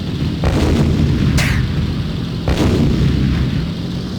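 Gunfire in the World War II Pacific aerial combat game Beyond Pearl Harbor: Pacific Warriors: a few loud booming shots over a constant rumbling engine drone, with a sharp burst near the middle.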